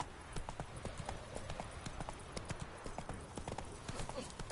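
Hooves of Roach, the horse in The Witcher 3, clip-clopping in a quick, steady trotting rhythm, fairly faint and alone with no voices.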